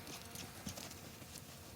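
A horse being ridden and cued for a right lead during a training ride, its hooves clip-clopping faintly and steadily against a noisy background, with no talking.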